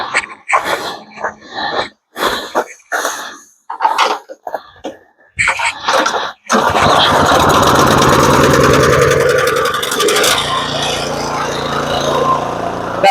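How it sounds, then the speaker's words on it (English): Outdoors, a snowblower with a newly reassembled planetary drive and auger belt is started: several short bursts and voices come first, then the engine catches and runs with a loud, continuous, close roar. "We're going to try to start this up, see how it drives, and see if it'll keep a belt on for the blower."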